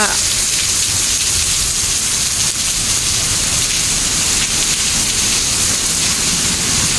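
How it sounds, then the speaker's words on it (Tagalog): Heavy rain pours down in Singapore around a covered walkway shelter, a loud, dense, unbroken hiss of drops on surfaces with no let-up. "Grabe, lakas ng ulan."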